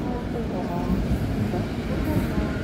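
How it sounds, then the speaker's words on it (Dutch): An S-Bahn Rhein-Ruhr train passes in Wuppertal, giving a steady, continuous rumble of rolling wheels and running gear that holds at an even loudness throughout, fairly close by, with no clear voice over it. "onze eerste trein die we gaan spotten hier in Wuppertal is een type die ik niet ken van de Duitse baan"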